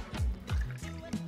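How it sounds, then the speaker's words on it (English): Light rum poured into a cocktail shaker, making a few short glugging, trickling gurgles in quick succession, close and fairly quiet, with no talking. "start off with your cocktail shaker and add 45 mils of light rum"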